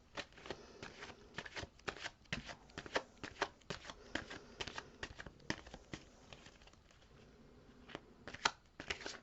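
Tarot cards are shuffled by hand in quick repeated riffles and soft slaps, a steady close rhythm of crisp card flutters running throughout.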